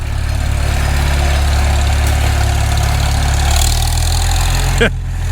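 An idling engine, loud and close, shifts in pitch partway through as the rider opens the throttle, then cuts off abruptly near the end.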